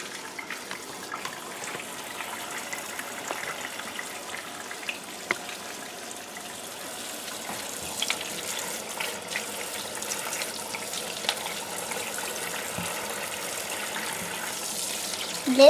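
A kitchen tap runs steadily while home-grown tomatoes are washed for canning, making a continuous hissing splash of water into a sink that stays even throughout, with faint background noise.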